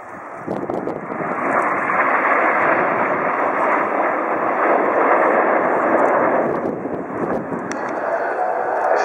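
Display team jets fly a slalom trailing red, white and blue smoke at the Farnborough air show, giving a continuous loud, rushing engine roar throughout.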